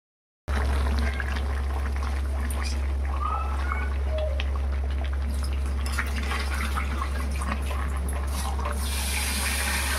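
Cooking oil poured into a pan in a home kitchen, a steady thin liquid trickle running continuously under a constant low hum, with a brief brighter hiss toward the end.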